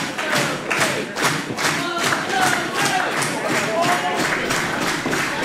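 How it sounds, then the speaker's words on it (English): A live crowd at a Grapple Pro professional wrestling title match, with the arena audience cheering, shouting and clapping in steady rhythmic bursts throughout. "You can hear the audience right now trying to rally."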